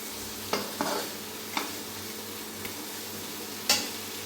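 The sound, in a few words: masala with cumin paste frying and stirred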